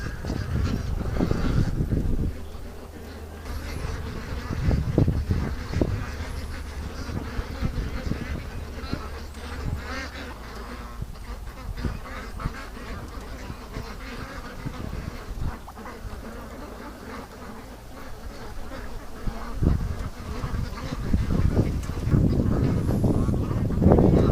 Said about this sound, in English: we've got a completely freaked out bunch of ducks